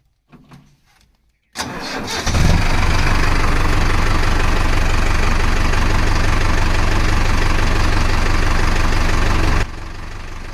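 Tractor engine with a stuck clutch plate cranks and fires, then settles into a loud, steady, close-up idle that drops in level near the end.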